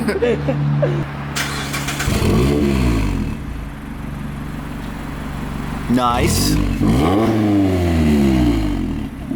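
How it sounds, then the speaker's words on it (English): A Mazda ND Miata engine cranks and fires, revving loud and raspy through a straight-piped exhaust, then revs again with a crackling rise and fall. "Let's hear your little straight piped exhaust."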